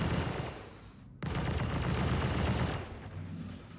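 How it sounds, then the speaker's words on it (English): Heavy turret gunfire in the Star Citizen video game, a dense roaring barrage that cuts out briefly near the start, then resumes loud and continuous before easing off. "Oh, he's shooting back"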